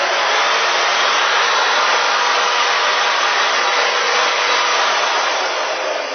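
A steady, loud electric sander runs continuously at close range, a dense whirring hiss holding at an even level throughout with no talking over it.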